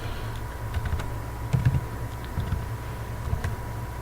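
Steady typing on a computer keyboard while entering a C hello world program, irregular clusters of soft key clicks over a low background hum, close and moderately quiet, with no talking.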